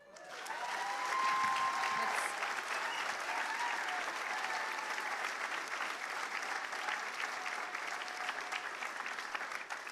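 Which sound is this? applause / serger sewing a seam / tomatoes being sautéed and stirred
applause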